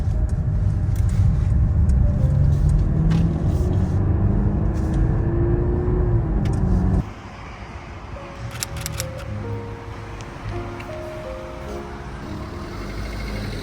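A car driving slowly along a road, its steady engine and tyre rumble continuous throughout, dropping to a quieter, smoother hum about halfway with a few faint clicks and tones inside the cabin.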